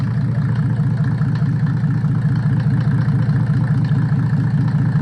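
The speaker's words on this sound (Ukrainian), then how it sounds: "класний мотор. Мягенько робить." A Mercedes OM603 3.0-litre diesel engine idles steadily with a low, even rhythmic rumble, loud and close, running smoothly throughout with no revving.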